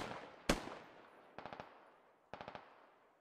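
Gunfire in the tactical shooter Squad: one sharp, loud shot followed by two separate bursts of three or four rapid rounds each, sounding fairly distant, with quiet gaps between them and no talking.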